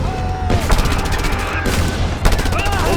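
Gunfire in the video game Just Cause 2, dense rapid bursts of automatic shots and fusillades filling the scene, loud and close, with someone talking in between.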